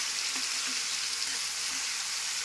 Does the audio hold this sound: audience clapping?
no